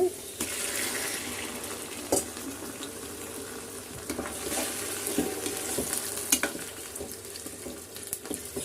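Prawns sizzle and crackle in a pan as they release their water, while occasional scraping stir sounds cut through. The sizzle is moderately quiet and close.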